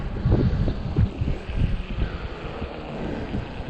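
Strong gusty wind roars and buffets the microphone on a 20-inch 48V Ecotric fat tire e-bike ride after a snow storm, a loud, uneven low rumble that surges and eases.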